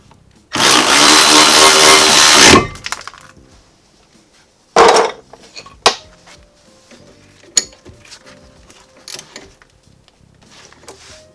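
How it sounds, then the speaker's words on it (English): An electric ratchet whirs in one loud, steady burst of about two seconds while tightening rear brake bolts on a G20 P10 car. A shorter burst follows, then scattered metallic clicks and taps of tools nearby. "I've got the electric ratchet, so I'm going to use that."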